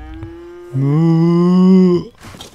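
A single cow moos in The Sims 3, one long, loud, close lowing call lasting over a second, followed by a short bit of other noise.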